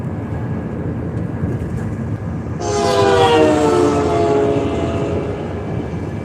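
A train runs near the I-57 highway, heard from a moving vehicle under steady road rumble, with a loud horn blast swelling in midway and holding for a few seconds.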